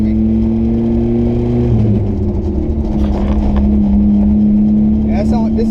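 Loud, obnoxious vehicle engine droning steadily in second gear, a strong low hum with tonal bands that shifts pitch partway through, running continuously and close.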